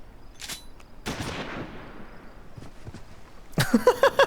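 Scattered gunshots in Final Fantasy XIV pop at intervals, one sharp report ringing out with a decaying tail, then a quick burst of close shots at the end.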